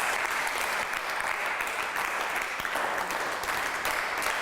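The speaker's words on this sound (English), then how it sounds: "Let's clap for ourselves." Audience applause at a reading-programme reality show, steady dense clapping from many hands that holds at an even, full level throughout.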